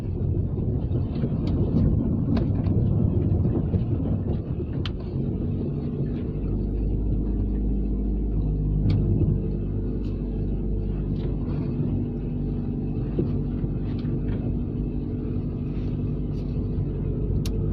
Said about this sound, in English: I just want to see if I can get this car off the driveway